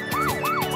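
Police car siren in a kids' song about professions, wailing in two clear rising-and-falling sweeps, loud and close, with no talk over it.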